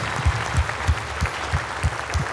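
Church congregation clapping in a steady, rhythmic beat, each clap landing at a regular pulse roughly three times a second, close and full-bodied, with no talking over it.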